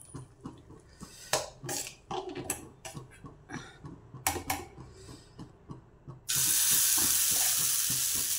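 Scraping and tapping of stirring in moong and jowar flour batter comes first, then a small amount of water is poured in, giving a sudden, steady, rushing splash for the last couple of seconds.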